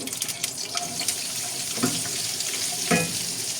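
Chopped onions fry in hot soybean oil with garam masala, giving a steady crackling sizzle with a few brief louder spatters and stirring sounds.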